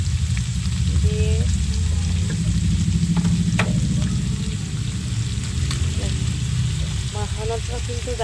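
Fish rubbed by hand with spices fries loudly in a pan, with a dense, constant sizzle and crackle close up and occasional stirring. A voice comes through briefly beneath the frying.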